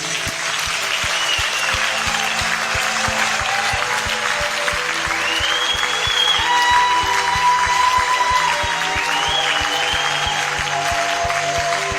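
A church congregation claps and applauds steadily throughout, acclaiming the Lord, with a dense, sustained wash of hands, faint voices and a sustained musical tone rising beneath the crowd.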